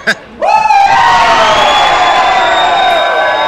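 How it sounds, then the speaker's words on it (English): A wrestling crowd boos loudly in one sustained, massed roar that swells in abruptly after a brief quiet moment and holds steady to the end. "I don't think I've ever heard anyone boo any louder than this crowd did just now."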